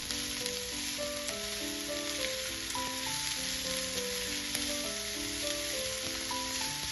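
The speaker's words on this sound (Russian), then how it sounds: "Подливаем еще немного масла и пассируем все вместе до красивого золотистого цвета" Vegetables sauté in oil in a pan until golden, giving a steady, close sizzle with a soft crackle that runs without a break beneath background music.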